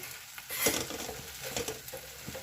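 Spiced pigeon pea (lilva) kachori stuffing sizzles in a pan with a spoon scraping and stirring through it, a few soft clinks, steady and close with no talking.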